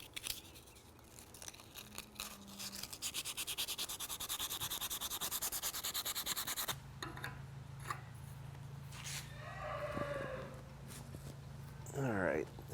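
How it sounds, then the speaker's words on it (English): Hand sanding of small ridges in the fitting of a two-piece takedown selfbow makes a close, steady scratchy rubbing for several seconds, then softer handling noises and a brief voice toward the end. "There's also a couple of little ridges in here that could be sanded down."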